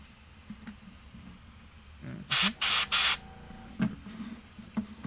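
An airbrush sprays paint onto Warhammer 40k Kill Team Catachan Jungle Fighter miniatures in three sharp, loud hissing bursts close together, followed by faint soft clicks in an otherwise quiet room.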